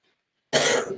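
A single harsh cough bursts out at close range after silence, rough and broadband, from a person who is sick.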